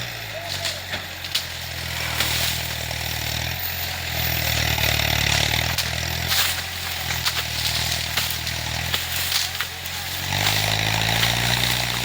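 A low tractor engine chugs and idles steadily, rising and falling in revs, with faint voices now and then in the background.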